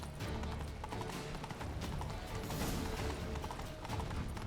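A horse trots along at an even pace in The Witcher 3: Blood and Wine, its hooves clopping in a quick, continuous rhythm, close and fairly loud, with no talking.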